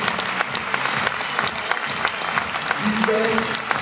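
An audience applauds award winners taking the stage at a women's awards evening: continuous mid-level clapping from a crowd, with voices faintly underneath.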